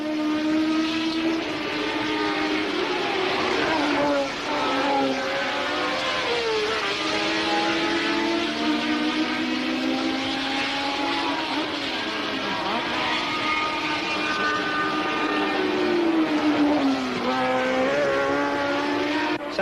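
Formula One race cars scream around Brands Hatch at the British Grand Prix, with continuous loud engine wails rising and falling as cars pass, sustained throughout.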